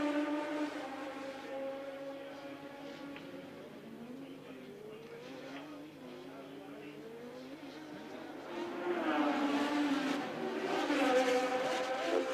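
Formula One cars racing around the 1988 Monaco Grand Prix street circuit, high engine whines rising and falling as cars pass, growing louder toward the end, under a commentator's voice.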